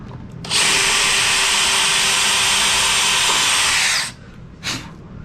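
A power drill fitted with a 2mm (5/64) bit bores a hole during a model U.S. Navy F6F Hellcat retract assembly, a loud steady whine running about three and a half seconds before stopping, followed by a brief short burst.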